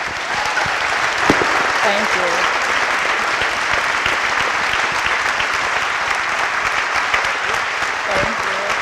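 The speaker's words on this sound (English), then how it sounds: "please everybody give a big applause" A large audience at a book launch event claps loudly and steadily throughout, with a brief spoken word mixed into the sustained applause.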